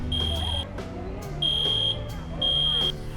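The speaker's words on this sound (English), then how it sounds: "The fire alarms went off, and we were asked to leave the store and move to the other side of the street." A fire alarm inside a Walmart museum store sounds in repeated shrill, even beeps with short gaps between them, over a busy indoor background.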